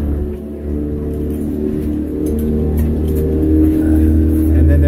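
A motor runs at full throttle, a steady loud droning hum with strong low harmonics that swells slightly toward the end, with no talking over it.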